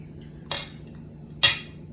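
A fork scooping food onto a plate at a meal of Khmer food, giving two short clinks of metal on the dish about a second apart against a quiet room.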